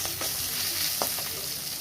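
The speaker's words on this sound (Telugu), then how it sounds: "అది కూడా ఒక 2 స్పూన్స్ వేసుకొని మంచిగా మిక్స్ చేస్తున్నాను నేను" Chicken with ginger garlic paste sizzles in a hot pan while a spoon stirs and scrapes through it, giving a few short clacks over a steady frying hiss.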